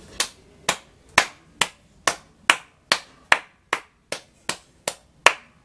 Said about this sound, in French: Il fallait que je commence avant tout propos d'abord par les applaudissements.